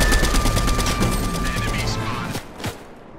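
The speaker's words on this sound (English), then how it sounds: "You're shooting me!" Video game gunfire rings out in rapid, close, repeating bursts that fade after about two seconds, with one last sharp shot near the end; voices are heard alongside.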